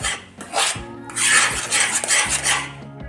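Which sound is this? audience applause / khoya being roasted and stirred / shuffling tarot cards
khoya being roasted and stirred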